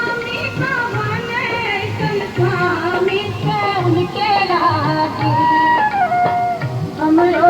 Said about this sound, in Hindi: किस प्रकार से छठ का गीत भी मिथिला हाट के अंदर बज रहा है